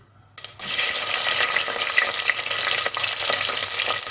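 Green chillies and fennel seeds drop into hot oil and fry with a sudden loud sizzle that keeps crackling steadily, up close, with faint stirring and no voices.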